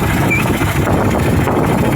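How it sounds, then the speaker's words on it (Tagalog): A fishing boat's engine runs at sea, a loud, steady low mechanical drone that continues without a break throughout. "pinaandaran ko na ng makina"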